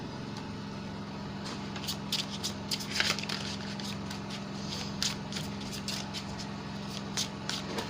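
Crisp riffling bursts of cards being shuffled, several quick flurries close to the microphone over a low steady hum.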